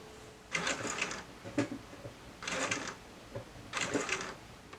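An Elna 9000 computer sewing machine stitches in three separate bursts of rapid mechanical whirring and clatter, with quiet pauses between runs.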